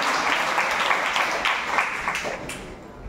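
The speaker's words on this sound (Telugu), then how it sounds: "చప్పట్లు కొట్టండి." A church congregation applauds during a Sunday worship sermon, a steady wash of many hands clapping together at moderate distance, holding for a few seconds before thinning out slightly at the end.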